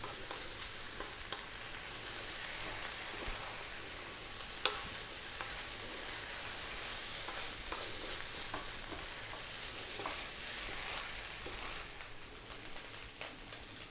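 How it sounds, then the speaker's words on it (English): Rice for vegetable fried rice sizzles and crackles steadily in a pan over high heat, a dense frying hiss with occasional louder pops and stirring scrapes. "The wonderful sound of our rice frying away there."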